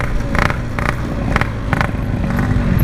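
A BMW GS motorcycle passes on a street at night, its engine rumbling low and steady with several short, sharper revving bursts spaced through the pass, fairly loud and close.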